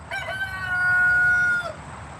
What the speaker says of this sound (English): Can you guys hear the cock-a-doodle-doo clearly on the stream?